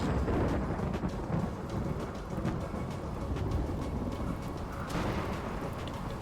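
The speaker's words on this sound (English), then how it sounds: "Make that 8 thunderstorms now." Thunderstorm in the video game RimWorld: steady rain hiss with low rolling thunder rumbling throughout, a brighter crackle near the end.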